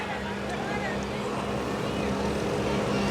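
A modified 1200 lb lawn tractor's engine drones and revs at a tractor pull, a steady loud engine hum with a persistent low tone, heard under an announcer's voice and crowd noise.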